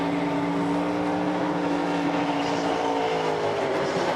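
A NASCAR Xfinity race car spins its rear tires during the Lakes Region 200 at New Hampshire, its engine a steady, loud, unbroken roar from start to finish.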